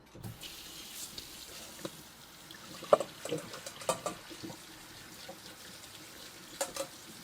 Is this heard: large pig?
no